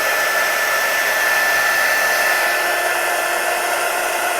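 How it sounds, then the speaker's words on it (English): A heat gun warming up for heat embossing on card-making stock gives a steady, loud close blowing hiss with a faint thin whine, running unbroken with no voices. "Heat up my heat gun."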